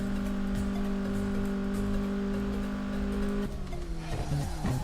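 A Honda Civic EK9 race car screams along at high speed in Assoluto Racing, its steady high engine note holding loud and constant before shifting and revving near the end, with a brief hint of tire squeal.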